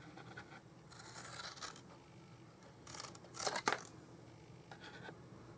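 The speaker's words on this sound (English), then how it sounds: "I'm just snipping off and then cutting a wedge out." Scissors snip through card stock for a Stampin' Up Christmas countdown craft, a few short quiet cuts close by, with a sharper burst of snipping in the middle.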